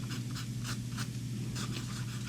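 Medium steel nib fountain pen scratching across paper in several short, rhythmic strokes, close and quiet, with slight skipping from a nib that may be low on ink.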